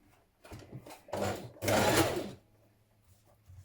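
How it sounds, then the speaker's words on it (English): A sewing machine runs in a few short bursts, then one longer run, stitching a pocket down to a dress side seam, fairly faint and close with no talking. "So we're going to stitch down our pocket here, attaching it to the side seam."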